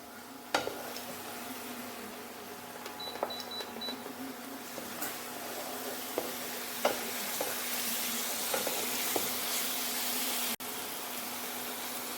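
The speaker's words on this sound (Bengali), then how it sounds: "এরপর আদা রসুন বাটাটাও এর মধ্যে দিয়ে দেবো দিয়ে ভালো করে নাড়াচাড়া করে নেবো" Ginger garlic paste sizzles steadily in a pan while a spoon scrapes and taps against the metal now and then, close and continuous with no talking.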